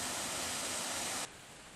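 Roaring white water at Black Linn Falls on the Rotten Calder in Lanarkshire, Scotland: a loud, steady broadband rush that drops abruptly to a slightly quieter level near the end.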